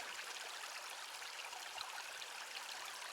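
Water flows in a stream along the Ozark Highlands Trail, a steady broadband rush and trickle heard alone, even and unbroken at moderate volume.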